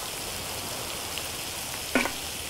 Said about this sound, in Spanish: ¿Escuchan ese ruido? Este es el ruido que necesitamos que tenga la sartén.